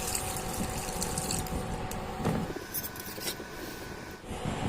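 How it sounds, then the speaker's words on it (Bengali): Water is poured into a pan of cooked spice masala, giving a steady, soft, close splashing and bubbling hiss, followed by a few brief clinks and sizzles as the pour eases off. "এবার দিয়ে দেবো পরিমাণ মতন জল।"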